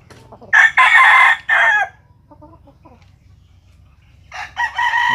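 A rooster crows loudly and close in two bursts, with soft clucking between the calls.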